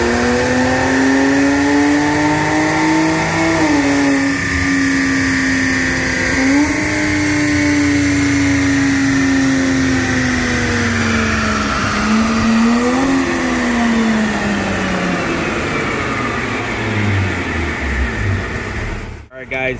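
A 2022 Genesis G70 Launch Edition running a dyno pull, its engine note climbing steadily through the gears with brief dips at each shift, loud and sustained for nearly twenty seconds before cutting off abruptly.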